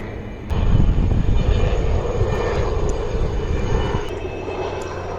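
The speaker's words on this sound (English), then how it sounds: "I've been competing with this helicopter for the longest of time." A helicopter flying overhead, a loud droning engine roar that swells in abruptly and holds steady for several seconds, close and dominant with no talk over it.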